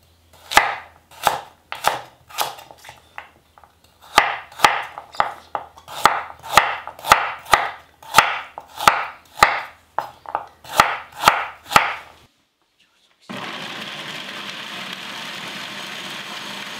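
Knife chopping radish for kimchi on a board, a close, loud run of sharp evenly spaced strokes in bursts, then a pause and a steady broadband hiss.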